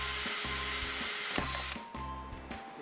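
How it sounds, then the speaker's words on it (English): A power drill with a metal bit bores a hole in a metal piece for a 3D printer frame, whirring in steady repeated bursts with brief pauses and a clear motor tone, loud and close. "So I drill the"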